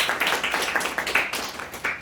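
Audience clapping at a library lecture welcoming a journalist speaker, a dense steady patter of many hands lasting about two seconds, moderately loud and fairly close.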